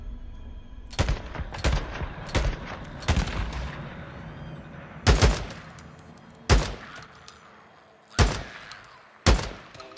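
Sniper rifle shots in the video game Days Gone ring out as about eight sharp, loud cracks at uneven intervals, each followed by a brief echoing tail, over a low ambient background.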